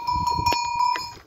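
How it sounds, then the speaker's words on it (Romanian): A flock of sheep led by a bell-wearing lead ewe: clear, sustained bell tones ring over short, nearby bleats and rustling, all within about a second. "Asta e oaia care mână tot cioporul."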